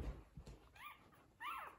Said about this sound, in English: How are Mingo's puppies doing?